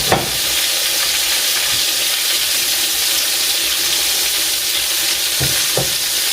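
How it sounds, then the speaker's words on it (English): Chicken livers fry in hot oil in a steady, close, hissing sizzle with a few soft knocks of the pan near the end, and no talking. "I have one more batch to fry"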